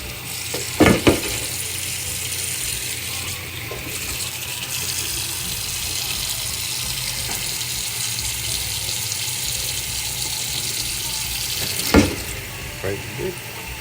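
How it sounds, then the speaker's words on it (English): Tap water running into a pot of vegetables for seafood chowder, a loud, steady rushing fill close by with a couple of brief knocks and clunks, and no talk. "I'm just gonna fill that up with water"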